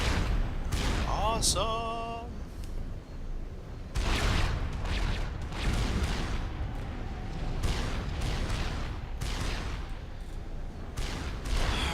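Anti-air gunfire in the real-time strategy game Supreme Commander, with dense, continuous crackling bursts and booms layered throughout, and a brief excited voice cutting in near the start.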